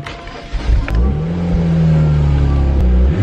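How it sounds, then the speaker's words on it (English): A BMW E93 335i engine cranks and catches, then revs with a deep, loud rising and falling drone that stays close and sustained to the end, with no talking. "when I get to my car, pretty much what's going on is just turn the car on like usual"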